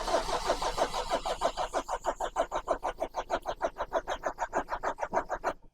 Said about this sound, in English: In fact, give this a crank, will you, big boy?